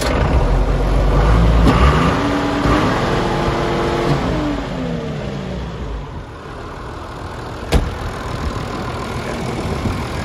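A used Iseki tractor engine revs up and then eases back as the tractor drives, a loud mechanical drone with rising and falling pitch that settles into steady running, with a brief knock near the end.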